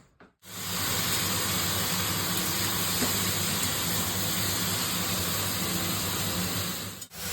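Flowers fry with chili and five-spice in a hot pan, giving a loud, even sizzling hiss that starts suddenly and runs steadily for several seconds.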